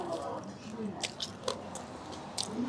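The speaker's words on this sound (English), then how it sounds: "Now those bones have a crunch." Grilled sparrow bones crunch between the teeth in a few sharp, close bites over soft chewing, with voices talking faintly underneath.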